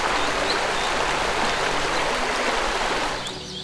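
Waterfalls and flowing water in ARK Survival Evolved, a continuous dense rushing wash, loud and steady, easing slightly at the end with no talk.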